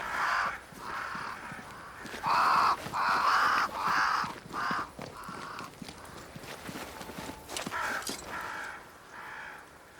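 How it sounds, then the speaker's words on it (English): Several crows caw repeatedly in Banishers: Ghosts of New Eden, with harsh calls in uneven bursts from more than one bird at middling distance. Light clopping steps sound beneath them. "Crows. They flock to that great tree up there."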